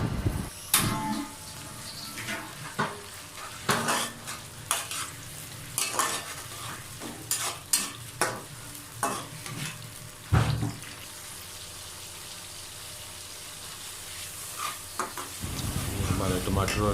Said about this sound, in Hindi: हमारे टमाटर और हरी मिर्च वगैरह जो अच्छी तरह भुन गए हैं